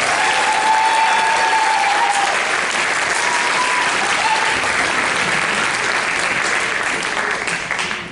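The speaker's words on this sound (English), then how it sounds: "about one more round of applause for our seniors and their families?" An audience at a high school varsity show applauds seniors and their families, with dense sustained clapping and a few cheers running the whole length before tapering off at the end.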